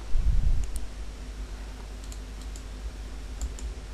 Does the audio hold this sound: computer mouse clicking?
yes